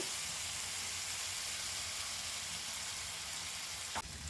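Ginger, garlic, green chili and tomato paste fry with onions in a pan, giving a steady, close hiss and sizzle throughout with a brief clatter near the end and no talking.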